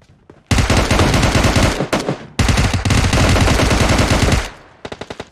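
Sustained automatic gunfire from PUBG, loud and dense bursts running almost without a break, with a short gap and then a few separate trailing shots at the end.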